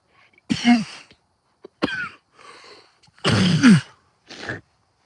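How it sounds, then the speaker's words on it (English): Several sharp coughs in separate bursts, close and fairly loud, with short quiet gaps between them and no talking. "Sorry for coughing in your all's ears"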